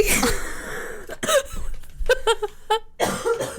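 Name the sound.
cough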